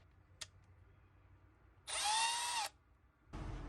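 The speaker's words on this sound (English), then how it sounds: "just hold down, put the drill in reverse, and spin" A handheld power drill run in reverse to loosen its chuck, with a brief high whine burst lasting under a second, then a second spin starting near the end after a short tap early on.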